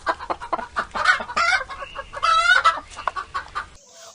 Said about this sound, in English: We say hens or chicken clucks.